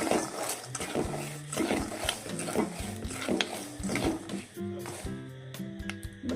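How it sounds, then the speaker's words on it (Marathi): Peanuts roast in hot salt in a pan while being stirred, giving a close, steady rattling and scraping clatter of shells and salt grains, with faint tonal sounds in the background. "शेंगदाण्याचा कसा आवाज येतोय हे पहा"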